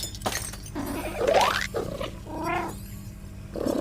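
A cat meowing in the video game I Am Cat, several rising and bending meows close up over game background sounds, with no talk.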